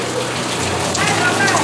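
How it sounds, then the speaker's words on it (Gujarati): Heavy first rain of the season pours down in a thick, even wash of drops. It sounds close and loud throughout, with a faint voice surfacing briefly near the end. "જબરજસ્ત વરસાદ આવી રહ્યો છે. અને આ પણ સિઝનનો પહેલો વરસાદ."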